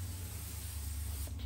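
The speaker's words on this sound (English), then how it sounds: "anti-fisheye coat on it, which is one real fast blast" One fast blast from a spray can laying an anti-fisheye coat onto a plastic taillight lens, a steady close broad hiss lasting just over a second, heard alone.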